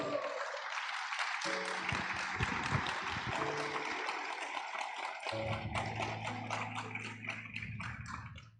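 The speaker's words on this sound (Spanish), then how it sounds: "Así que denle un fuerte aplauso a Dios" A Spanish-speaking church congregation claps loudly and continuously for several seconds as sustained keyboard chords swell beneath, the applause staying dense right to the end before easing off.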